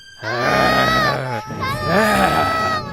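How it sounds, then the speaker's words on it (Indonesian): Young goats in an animated wolf-and-seven-kids story scream in long, loud, overlapping wails, with a short break before the panicked cries start again. "Mereka mulai berlarian, berteriak."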